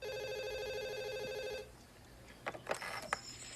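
Old telephone bell ringing steadily and quietly for about a second and a half, then stopping, followed by faint clicks and handling sounds.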